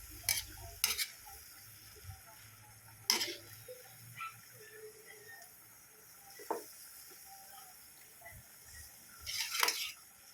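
String beans sautéed with mackerel sardines are stirred in a pan, soft sizzling underneath with sparse sharp scrapes and clacks of a utensil against the pan, quiet and close.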